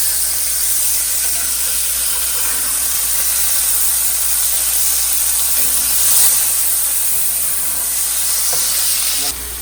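Pork patties for a brunch sausage burger sizzling steadily on a hot cooking surface, a loud continuous hiss that holds throughout with no pauses.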